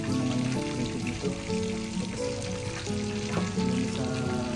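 Steady, crackling sizzle of fish frying in hot oil, continuous and close, with faint clinks of a utensil and no talking.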